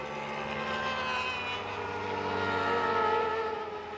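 A Yamaha racing motorcycle engine screams past during a race, a loud, high-revving whine that swells and fades slightly as it passes, heard alone.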